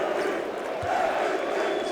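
Basketball crowd at a FIBA EuroBasket 2017 final between Slovenia and Serbia chanting MVP for Dragic as he goes to the free-throw line, a steady, dense roar of voices filling the arena at moderate distance.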